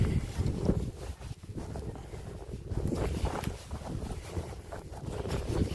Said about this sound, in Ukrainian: Вітер дує, не знаю, може задуватиме.